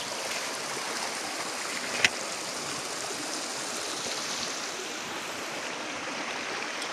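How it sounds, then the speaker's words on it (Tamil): Waterfall on a mountain at a sacred meditation spot, a steady broadband rush of falling water that holds even and fairly close for the whole stretch, with one brief sharp knock partway through and no voices. "அருவி அவ்வளோ அழகாக வருது."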